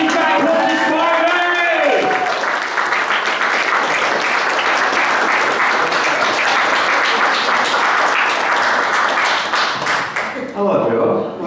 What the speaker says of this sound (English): Everyone, let's keep clapping.